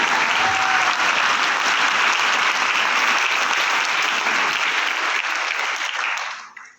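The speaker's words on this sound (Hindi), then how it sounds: "यस यस, तालियां तो बनता है यार कंपनी के लिए" A crowd applauds in a steady, dense wash of clapping for several seconds before it fades out at the end.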